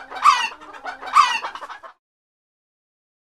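A hen clucks in two quick, close bursts of loud cackling, then silence follows.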